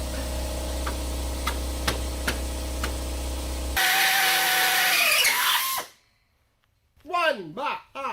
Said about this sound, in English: Drill the 3 holes through the frame.